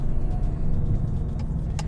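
A Ford Mustang muscle car engine rumbles loud and close, a steady deep throaty drone through the whole short stretch with no talking.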